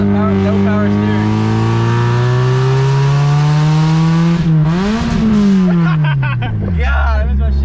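A Mazda Miata NB engine revving up through the gears from inside the car, loud and close, its pitch climbing steadily, dropping at a gear change, then rising again as voices talk over it.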